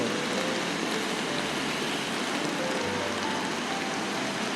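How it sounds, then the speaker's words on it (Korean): Steady rain hisses without a break at Gwangalli Beach, and a dull roar of surf churns low underneath, constant and fairly loud throughout. "비가 오고 파도가 많이 치고"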